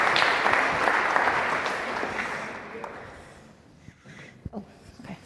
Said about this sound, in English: Let's give him a little clap while he joins us.